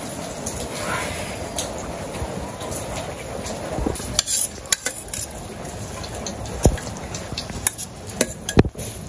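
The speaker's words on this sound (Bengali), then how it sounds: "আমার কড়াইটা গরম হয়েছে আমি তেলটা দিয়ে দিই" Oil is poured into a hot wok for cooking meat in a village kitchen, giving a steady background sizzle with scattered clinks and stirring knocks of utensils against the pan, plus a few sharp louder taps near the end.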